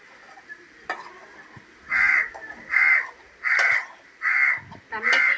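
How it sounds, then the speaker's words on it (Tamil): Crow cawing repeatedly nearby, five loud harsh caws in a steady rhythm, with faint kitchen noises and soft voices in between. "யார் இது காக்கா"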